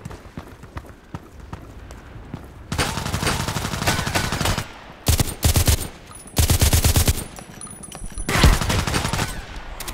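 An M4A1 custom rifle fires in the Contract Wars shooter game, with several loud, close bursts of rapid automatic fire separated by short pauses and no talking.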